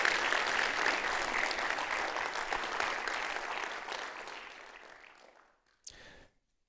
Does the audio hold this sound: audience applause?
yes